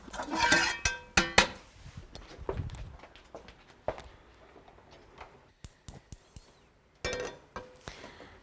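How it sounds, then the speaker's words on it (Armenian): A frying pan is brought over and handled on a kitchen counter, producing a string of close knocks, clanks and clinks of metal cookware, loud at first then sparser and quieter, with no voices. "ես բերում եմ թավան եւ սկսում ենք մեր աշխատանքը"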